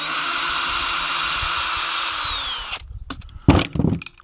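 A power tool runs steadily at high pitch on a Chinese gasoline chainsaw being taken apart, then cuts off, followed by a few close clicks and metallic handling knocks.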